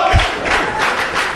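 A wrestling crowd roars loudly and steadily, a dense wash of cheering and yelling with a low thump near the start.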